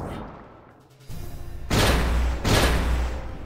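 Gunfire from the Symphony of War: The Nephilim Saga strategy game: loud, dense bursts of shots in two heavy waves after a quieter lead-in, with no talking.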